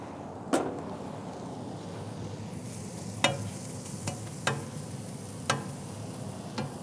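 Mushrooms fry in lard in a pan with a soft, steady sizzle, broken by a few sharp utensil clicks and scrapes spaced through the quiet cooking.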